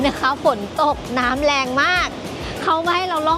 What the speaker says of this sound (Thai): เราก็เลยต้องมาชมน้ำตกตรงนี้